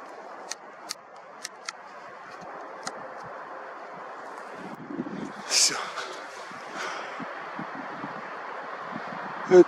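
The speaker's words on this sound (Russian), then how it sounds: "Это ветер, это не я." Wind buffets the microphone in low rumbling gusts, with a few sharp clicks and rustles, fairly quiet overall.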